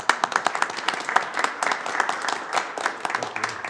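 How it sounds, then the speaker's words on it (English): Round of applause for trail work volunteers at a city council meeting, a room of people clapping steadily and fairly loudly for several seconds without any talking. "Let's give them a round of applause if we could."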